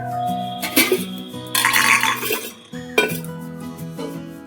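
A spoon clinks and scrapes against a bowl as oats, semolina and sour yogurt are stirred with water into a batter. The mixing comes in uneven bursts and is loud and close.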